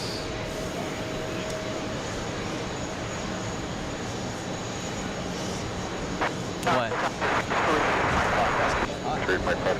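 British Airways airliner coming in to land at JFK in a headwind, a moderate jet rumble and whine that builds and grows harsher toward the end, with people talking over it.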